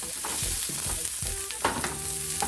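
Chopped onion frying and being stirred in a pan for a sardine bread filling, a close, steady sizzle broken by scrapes and clinks of a utensil, with no talking.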